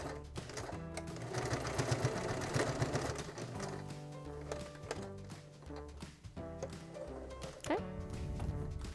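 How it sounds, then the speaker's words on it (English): A sewing machine stitches back and forth across a cloth diaper, its rapid mechanical thumping running steadily and close, with short stops and restarts. "Then you're going to go and sew back and forth again."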